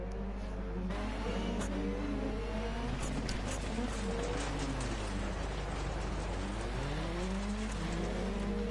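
A Renault Clio rallycross car in Dirt Rally 2.0 races at the Barcelona circuit, its engine revving steadily up and down, loud and continuous, with a few sharp transient ticks near the start.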